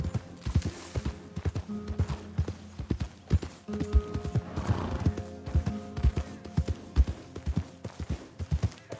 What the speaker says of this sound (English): Here's your horse back